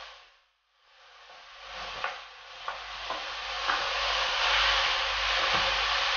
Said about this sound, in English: piece by piece, add the meat in your cooking pot